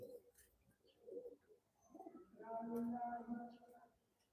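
Soft, low pigeon cooing, a few quiet murmurs building into a longer throaty coo, faint and nearby with no talking.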